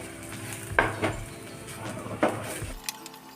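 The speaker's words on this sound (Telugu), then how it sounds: "ఇలా పాలు పోసుకున్న తర్వాత అంతా బాగా కలుపుకోవాలి" Bread and milk being stirred together in a pan on the stove for an easy bread sweet, with a few spoon-on-pan clinks standing out over a steady low cooking hiss, fairly close and without talk.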